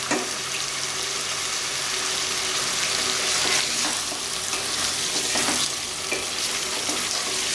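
Chicken pieces fry in a hot pan for a chicken tinday dish, giving a steady, moderate sizzle with a few scraping stirs and clatters and no talking.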